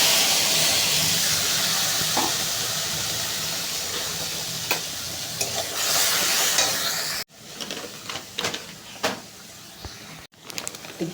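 Dried red chillies and mustard seeds frying in hot oil give a steady, close sizzle and hiss with stirring clatter, ending in a few brief gaps.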